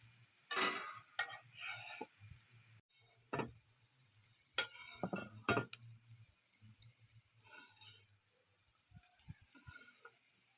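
Fried nathal fish being stirred into a thick masala in a pan, with scattered scraping and tapping spoon strokes and soft sizzling, fairly quiet and close, no talking.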